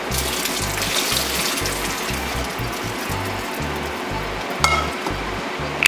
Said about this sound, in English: Drain away the water.